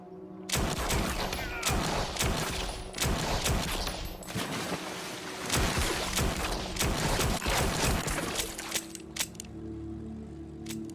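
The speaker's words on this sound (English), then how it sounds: "this was from the finale of season 1 when Jack Bauer is in a shootout" Rapid bursts of gunfire ring out through a tense shootout from the season 1 finale of the TV show 24, loud sharp cracks and volleys packed close together for several seconds before thinning out near the end.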